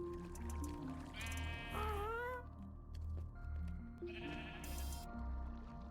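Sheep in Minecraft bleating, several wavering bleats one after another over a low background of game ambience, fairly close.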